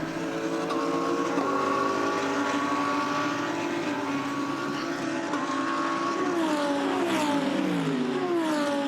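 GT racing cars, among them a Lamborghini, screaming past at the Red Bull Ring during an ADAC GT Masters race, a loud sustained engine whine with shifting pitch as cars chase each other, gears changing near the end.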